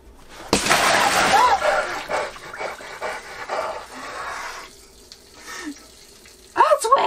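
Water sprays and splashes inside a campervan shower compartment, a loud hissing stream that fades and returns, with people talking and exclaiming over it.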